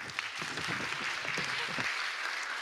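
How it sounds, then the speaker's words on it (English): A church congregation claps for the children during a worship service, dense steady applause for about two seconds before it thins out and stops. "clap for them."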